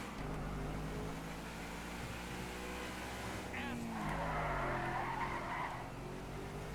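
Tires squeal as a car skids in GTA 5, with a rising screech over a steady engine drone and someone talking over the driving.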